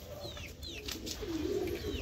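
Pigeons of a fancy breed, Andhra Fulsira or kalanka, coo in a loft among many birds, a soft low repeated coo rising midway over steady background noise, with a few higher chirps near the start.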